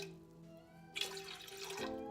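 Water gushes from a tap in a broad, steady rush over a low hum, starting abruptly and running for about a second before easing off.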